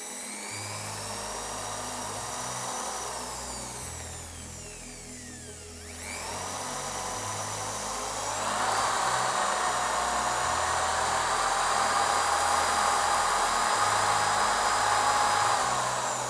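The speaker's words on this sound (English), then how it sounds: "we're going to use a little shear mixer, as I mentioned, to just give that a good blend" Small shear mixer blending material, a steady high motor whine with a dip midway, then a louder rise as the speed builds and holds, close and without talk.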